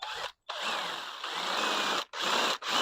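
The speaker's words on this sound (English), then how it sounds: "drill straight, please." A power drill whirs at high speed in bursts while drilling a hole for a cooling fitting in a Toyota AE86, cutting out briefly twice before spinning up again, close and loud.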